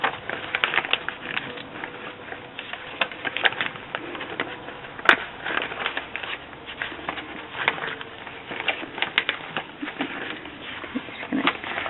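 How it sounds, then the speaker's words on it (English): Old book pages crumpled by hand, a steady run of crisp crackling and rustling paper, close and moderately loud, with no talk. "Just gonna crumple these up."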